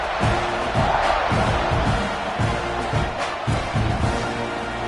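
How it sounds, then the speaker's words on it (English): A football stadium crowd roars during a Florida State scrimmage, a broad, continuous wash of many voices with a few louder swells and shouts, while people talk through it. "You think this crowd's going to get loud when their defense comes on the field?"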